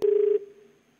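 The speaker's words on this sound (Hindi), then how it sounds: "दोबारा से फोन मिला रहे विपिन।" A telephone tone on a call line: one steady pure beep of about a third of a second, loud and close, then a short fading tail, with no voices.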